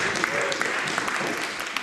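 Applause in the Scottish Parliament chamber at Holyrood: brief, moderately faint clapping from many hands spread across the room, soft and even for under two seconds.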